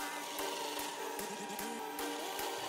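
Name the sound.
sanding a nut spun by a drill on a belt sander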